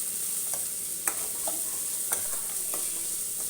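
Chopped vegetables with a spoonful of salt fry in a pan for millet khichadi, giving a steady close sizzle broken by a few sharp scrapes and taps of stirring, with no voices.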